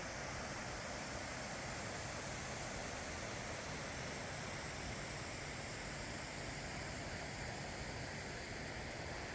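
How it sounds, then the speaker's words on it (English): Paddy Run Falls rushes as a steady, even wash of white noise heard from a distance above a gorge, with no voices and no change in level. "the sound of that waterfall is calling to us"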